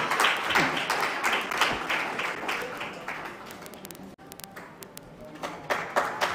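Audience applause at an annual innovation and entrepreneurship conference, a dense, steady patter of many hands that carries on for several seconds and thins slightly toward the end.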